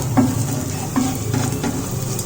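Green chillies and ginger garlic paste sizzle in a pan as a spoon stirs them, with a few soft scraping strokes over a steady low frying hiss; brief and close.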